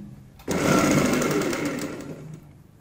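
A sewing machine stitches the center point of a kurti neckline in one short, steady burst of motor whir that starts abruptly and tapers off after about two seconds.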